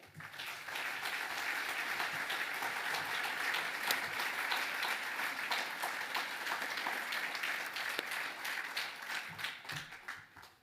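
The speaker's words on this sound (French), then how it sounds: "je vous demande, s'il vous plaît, de bien vouloir les applaudir" A crowd applauding steadily, dense clapping holding at full strength for about ten seconds before tapering off slightly at the end.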